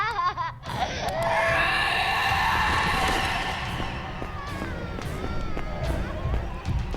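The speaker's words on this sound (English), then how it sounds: "Is that a child crying?" Wailing child-like zombie cries and screams from the game Dying Light, loud and sustained with shifting, warbling pitch over dense game noise, fading somewhat toward the end.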